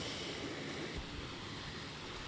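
Ocean waves and wind on the coast near Puerto Vallarta, a steady broadband roar of surf with wind buffeting the microphone, continuous and fairly faint, with no voices.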